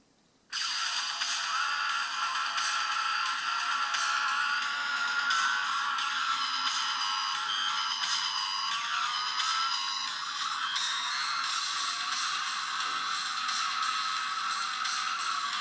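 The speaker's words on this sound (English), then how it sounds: "Sound on the phone, as you can hear, is very loud, but it's a little bit tinny, it's not bassy at all." Racing video game audio plays through a Blackview Omega phone's built-in speaker, loud and tinny with no bass, a continuous bright, thin wash of engine and game sound running steadily alone after a quick start.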